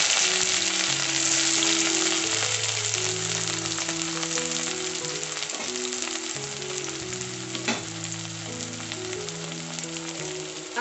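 Chopped onions frying in well-heated oil, a loud, dense, continuous sizzle and crackle close up, with soft background music playing underneath throughout.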